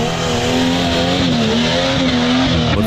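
A Jeep Wrangler drives an off-road track at an Armenian off-road competition. Its engine holds a loud, steady, close drone throughout, with slight rises and dips in pitch and no talk.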